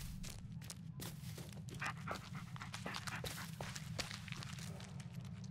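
Bullet the dog from the Blair Witch video game pants in quick, steady breaths close by. Soft footsteps crunch over outdoor ground underneath, and a low rumble hums throughout.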